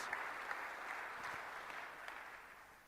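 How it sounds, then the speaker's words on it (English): At the closing of a National Dialogue on coalition government, faint, distant applause for the leaders of political parties rolls on steadily and softly, with a few slightly louder claps scattered through it. "a big round of applause to the leaders of political parties"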